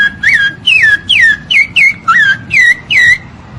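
A parrot mimics the song of a rufous-bellied thrush with eight loud, clear whistled phrases, each a quick swooping note repeated at an even pace, close up over faint background noise.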